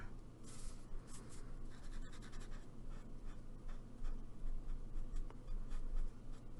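A brush nib marker from a Studio 71 set draws across paper in soft, close scratchy strokes with light taps, a quiet repeated scraping rhythm over a low background hum.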